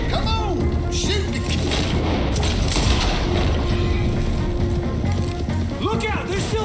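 Loud gunfire and booms crash through a shootout in Red Dead Redemption 2, with shouting voices mixed into the steady chaotic din.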